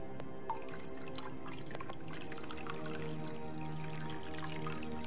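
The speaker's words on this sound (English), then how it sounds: "So you can see it bubbling away." Limestone dissolving in a clear solution, a soft continuous fizz with small drips and pops of bubbles, close and quiet with no talk.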